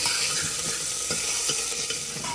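Masala paste with cumin frying on a low flame, a dense, steady sizzle with faint stirring scrapes underneath, close and continuous.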